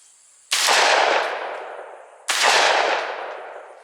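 Two loud, close shotgun blasts, fired with an improved cylinder choke at an outdoor target, come about two seconds apart. Each one rings out and fades slowly.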